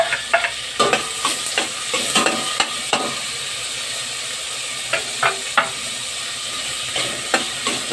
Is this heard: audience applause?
no